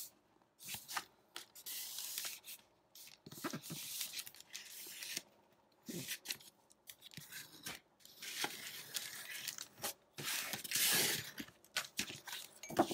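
Cut scrapbook paper being folded for signatures, with soft crinkling, rubbing and creasing swishes in short bursts, close and faint, with brief quiet gaps between.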